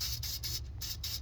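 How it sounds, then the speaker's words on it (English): Battery terminal protector spray hisses in short rapid bursts onto a 2014 GMC Acadia battery terminal, about five close, evenly spaced pulses. "we'll spray some of this terminal protector as well"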